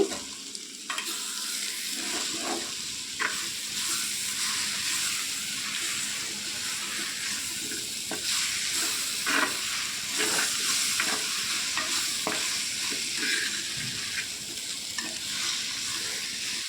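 Drumstick pieces and a large chopped tomato fry with browned onions in a pan, giving a continuous close sizzle broken by repeated scraping strokes of a spoon stirring, steady and moderately loud with no talking.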